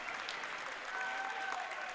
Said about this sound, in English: Nice hand from the crowd.